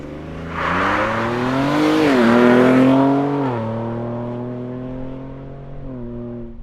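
A Ford Ranger Raptor pickup with a Ford Performance ProCal tune accelerates hard from a launch, engine rising loud and close with a strong climbing harmonic sweep, a brief shift dip near three seconds, then a steadier drone.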